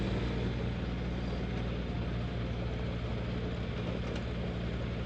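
A heavily loaded tractor labours up a steep slope, its engine producing a loud, close, continuous throbbing drone that holds steady without pause or voices.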